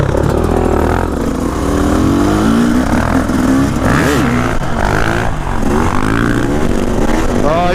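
A dirt bike engine revs loudly and close, rising and falling in pitch in repeated bursts with a steady throaty drone, during an off-road riding session.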